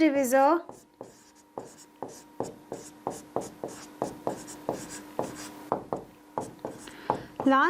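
Marker strokes on a board during a maths lesson, a steady run of quick taps and scratches about two per second, with a voice speaking briefly at the start and end.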